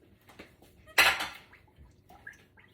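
A utensil clatters sharply against a mixing bowl while sugar is stirred into cassava cake batter: one loud, close clank with a short rattle, surrounded by quieter, faint scraping.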